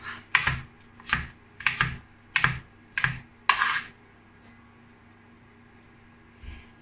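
Knife chopping leafy vegetable trimmings for a cheap vegan dinner, heard as about five sharp, close chopping strokes in a steady rhythm on a board, then one faint knock at the end, with no talk.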